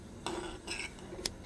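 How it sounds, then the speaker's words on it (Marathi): A spoon stirring matki usal, a moth bean curry, in a pot: a few soft metallic scrapes and clinks over a quiet background, one brief sharper tap near the end. "मटकी छानसं असं ढवळून घ्या आणि 5 मिनिटं शिजू द्या"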